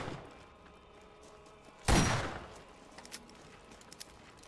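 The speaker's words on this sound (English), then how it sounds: "Shotgun." A single loud shotgun blast from the Borderlands video game rings out close and sharp, then decays into a steady hum of game ambience with faint clicks and small impacts.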